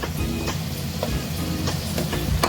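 Chopped tomato frying with softened onions in a pan for Bombay-style potato saagu, a steady close sizzle with faint clicks of stirring now and then, no talk.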